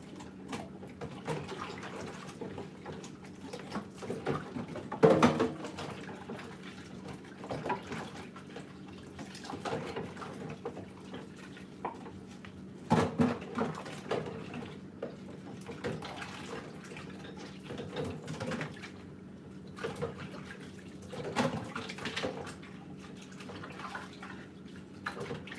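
Plastic containers being washed under a running tap: a continuous, fairly quiet stream of water with intermittent clunks, splashes and handling knocks scattered through, and no talking.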